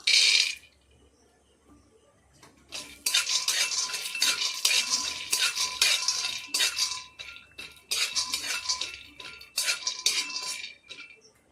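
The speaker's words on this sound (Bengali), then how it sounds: "গ্যাসে একটা কড়াই বসিয়েছি কড়াইয়ের মধ্যে আমি চিনে বাদাম ভেজে নেবো" Peanuts being dry-fried in a wok on a gas stove rattle and scrape under a stirring spoon in irregular bursts, close and fairly quiet, with brief pauses between strokes.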